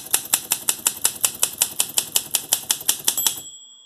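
Keys struck one at a time on an Olympia Deluxe typewriter: about seventeen crisp, close clacks in a steady, even rhythm, ending with a short ringing bell as the carriage nears the edge of the page.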